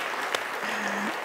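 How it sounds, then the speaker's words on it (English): Brief clapping from a church congregation after an adult bell choir performance, a short burst of applause with a faint tone lingering underneath. "that clap applause is also for you, Cindy, and for everyone who helped you"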